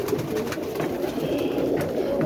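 Roller pigeons coo in a steady low murmur, fairly close and continuous, over outdoor background noise.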